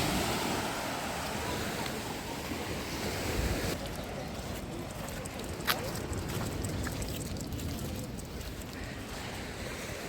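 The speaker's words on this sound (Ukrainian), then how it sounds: "А, хвилі, дивіться, намочили речі" Sea waves washing in on a crowded Odesa beach, a continuous roar of surf with wind buffeting the microphone and a brief splash near the middle.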